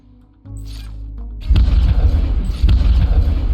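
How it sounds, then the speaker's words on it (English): A missile fires in the spaceship combat game Breachway: a soft low rumble, then a sudden heavy booming launch blast that roars on with rough, rumbling energy and a second surge partway through, loud and close. "Missile launched."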